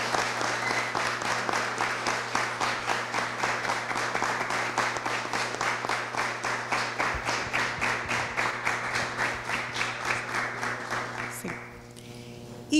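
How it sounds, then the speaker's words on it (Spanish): An audience at a library music event applauding steadily and fairly loudly for about twelve seconds, the clapping settling into a rhythmic beat before tapering off near the end. "Yo quisiera para él pedir un fuerte aplauso."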